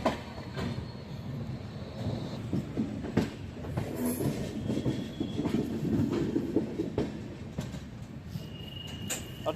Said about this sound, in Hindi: वैसे ट्रैक साउंड की शूट इस ट्रैक में काफ़ी अच्छी आ रही है